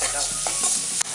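Pasta with salt sizzles as it is stirred in a hot frying pan, a brief close burst of steady frying hiss broken by a few soft scraping strokes, with no voices.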